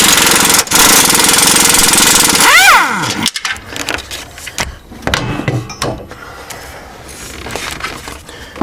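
A compact impact tool hammers loudly at the ball joint on a 2005 Jeep Liberty, a harsh continuous rattle that stops with a falling whine after about three seconds, followed by quieter clanks and shop noise.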